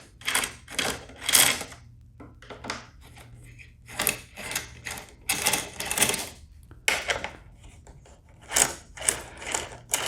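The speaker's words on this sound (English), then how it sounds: "First thing we're going to do is remove those 4 bolts." Bolts on a Kawasaki Concours 14 stock luggage rack being loosened with a 5mm hex key, a close series of ratcheting, clicking bursts in irregular clusters with short pauses between.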